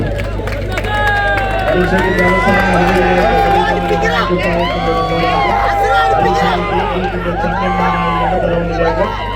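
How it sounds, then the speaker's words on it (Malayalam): A crowd at a tug-of-war contest in a shopping mall cheers, shouts and claps in a dense, continuous roar, with an announcer talking loudly over a constant low hum. "ആരുടെ കയ്യടി താളങ്ങൾ ആർപ്പ് വിളികൾ മുഴങ്ങുന്ന ഈ കളിത്തട്ടകത്തിലൂടെ"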